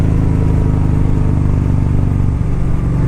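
A 2013 Kawasaki Vaquero motorcycle accelerates, its loud, close V-twin engine growling steadily with a throbbing, rising rumble throughout.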